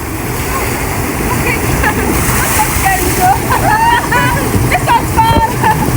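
Fast-rushing water at Sunrise Waterfall roars loudly and steadily while excited voices call out and shout over it.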